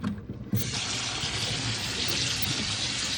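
Boiled macaroni pasta water gushes steadily from a pot into a sink, a loud continuous splashing pour that starts abruptly and runs without pause.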